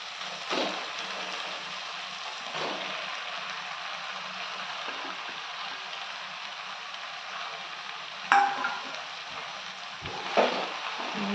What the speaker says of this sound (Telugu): ఇప్పుడు ఏం చేయాలి, కట్ చేసి పెట్టుకున్న బీరకాయ ముక్కల్ని వేసేసుకుందాం.